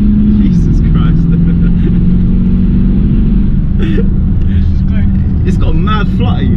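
An ABT-tuned Audi Q7 with a twin-turbo V8 diesel accelerates hard, its deep engine rumble rising and holding loud and close inside the cabin while people talk and exclaim over it.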